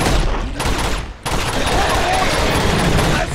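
Gunfire in the video game Uncharted 2: Among Thieves, a dense continuous fusillade of rapid shots filling the scene, loud and sustained with a brief dip partway through.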